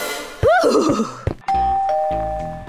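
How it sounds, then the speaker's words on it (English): A doorbell in an animated Minecraft hide-and-seek scene rings a clear, loud two-tone ding-dong that sustains and fades, following a brief rising vocal exclamation and a short knock-like bump. "The doorbell rang."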